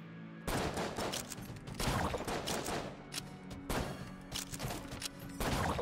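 Three Uzis held by mimics in Enter the Gungeon spray gunfire in repeated dense bursts, loud and rattling, broken by brief gaps, with no speech over it.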